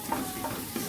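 Tomatoes are stirred in a large cooking pan (karai), making a soft, low sizzle with a few brief scraping strokes over about a second.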